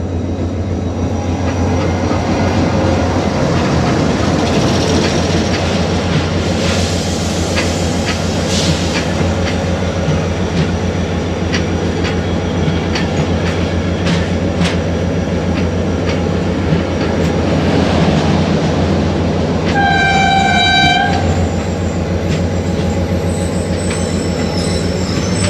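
The Shalimar Express pulls into Landhi Junction in Sindh with a loud, continuous rumble of wheels and carriages, close by. Squealing wheels and a brief high, tonal whistle or squeal rise near the end.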